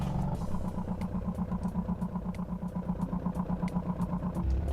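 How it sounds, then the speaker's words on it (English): A race engine with a straight-through exhaust and no second muffler idles with a loud, steady, rapid pulsing burble, a lumpy even rhythm that holds throughout with a slight swell near the end. "there's no second muffler because this is a race engine"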